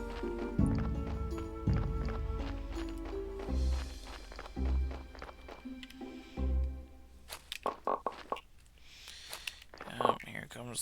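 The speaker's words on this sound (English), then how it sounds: "Oh, here comes the donkey." A donkey's hooves clip-clop in a video game, a series of hollow knocks approaching with a bray-like call, heard under a talking voice and background game music.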